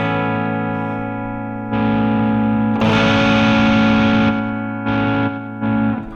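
A sustained distorted guitar tone from a distortion effect in Ableton drones, shifting in intensity across several sections as the effect changes, with buzzy harmonics and short breaks.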